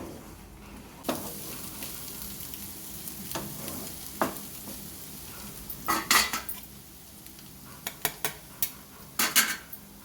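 Small carrot pieces fry in a pan for street-food-style egg fried rice, a soft sizzle running underneath while a metal spoon scrapes and clinks against the pan in irregular stirring bursts, close up.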